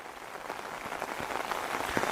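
Rain falls steadily during a thunderstorm over a stormwater canal, a dense, even hiss with scattered close droplet taps, and no voices.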